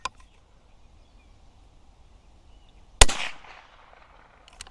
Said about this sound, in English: Let's go to a little smaller steel. I'm going to shoot a 2/3 size IPSC.